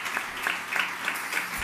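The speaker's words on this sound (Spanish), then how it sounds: "Un aplauso a Richard" A theatre audience claps after a performance, a steady patter of applause at moderate distance, heard alone without talk.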